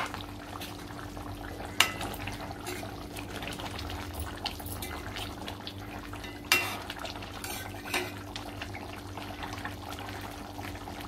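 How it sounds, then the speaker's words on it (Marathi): Koli-style spicy mutton curry boiling in a pot, a steady low bubbling simmer with a few sharp clinks of utensils against the pot, no talk. "आता आपल्या मटणाला चांगली उकळी आलेली आहे"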